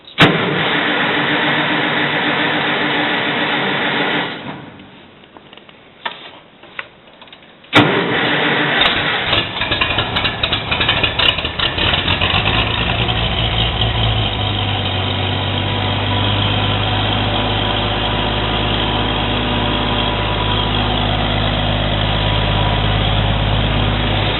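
A 1600 engine cranks and catches after a brief pause, then settles into a loud, steady idle with a low rumbling drone that continues to the end, no talking.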